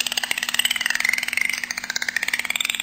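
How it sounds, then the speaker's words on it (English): Dolphin echolocation clicks: a fast, steady train of short sharp clicks, loud and close, with no voices. "They're sending out short clicks"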